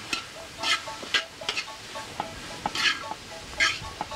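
Onion and carrot fry in a pan and are stirred, giving a soft steady sizzle broken by scraping stirs of a utensil. The sound is fairly quiet, with no talking.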